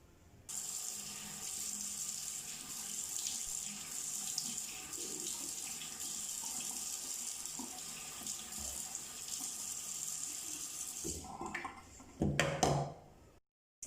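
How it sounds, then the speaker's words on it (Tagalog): Running faucet water pours steadily over a handheld spa facial device as it is rinsed in a sink, a continuous close splashing hiss that ends with a few louder splashes and handling knocks. "Ito naman, pwede nyo siyang hugasan directly sa faucet."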